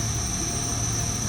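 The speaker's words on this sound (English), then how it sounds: "Alright, Brennan, ready for me to get the motor spinning?" Drone motors spin at a steady speed, a continuous close whine with a sharp high tone over a low droning hum and no clear rise in pitch.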